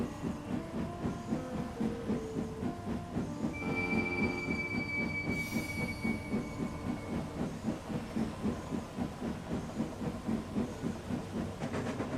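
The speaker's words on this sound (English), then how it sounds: "When the guard's whistle blew, Timothy puffed out of the harbor." A steam train departs a harbor, rumbling steadily with rhythmic wheel clatter and a sustained high whistle or squeal partway through, moderately distant.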